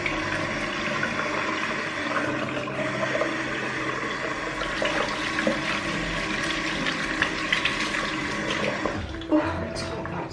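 Hot water gushing from a tap in a soap-making workspace, a steady loud rushing stream that runs throughout, with a brief clatter near the end.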